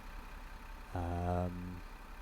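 Bus engine from the OMSI 2 driving game, specifically a Gainsborough Trident, idles as a brief low rumbling hum that lasts under a second amid faint background noise.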